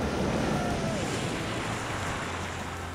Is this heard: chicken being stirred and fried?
no